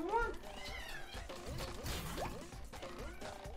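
A cat meows a couple of times at the start of the clip, then fainter cries follow amid video game sound effects and thuds while someone talks over it.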